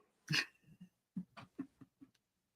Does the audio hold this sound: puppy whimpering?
yes